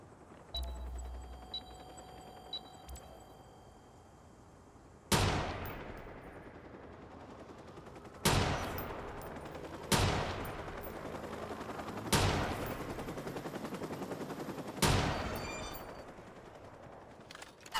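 Sniper rifle shots in the video game Watch Dogs 2 ring out as five loud, sharp cracks spaced a few seconds apart, each with a decaying tail, over quiet game ambience.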